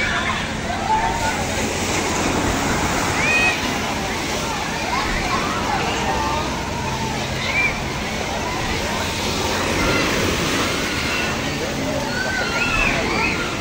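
Strong waves wash and slosh steadily at a resort pool or beach during a birthday outing, a continuous loud rushing of water with voices and chatter of people talking over it.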